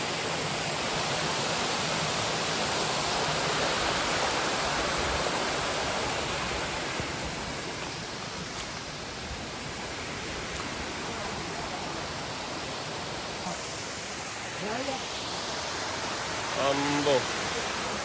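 A small rocky stream flows down a hillside in Adoor Mala village, Idukki, with a steady rushing wash of water that stays even throughout, while brief faint voices rise near the end.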